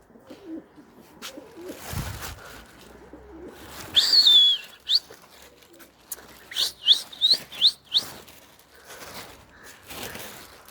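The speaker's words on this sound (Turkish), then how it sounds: "Tamamdır şu an kalktı kuşlarımız." Pigeons are released from a Turkish coop and take off, giving soft coos and brief chirps with faint wing flutters amid outdoor ambience. A sharp thump comes near the start, then scattered bird calls follow in short bursts.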